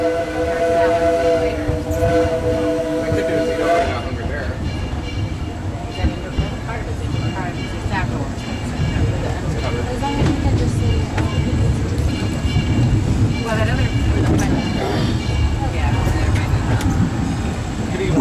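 Disneyland Railroad steam train running along its route, opening with a loud harmonic whistle blast that gives way to a steady rumbling, clattering ride noise throughout, with voices in the background.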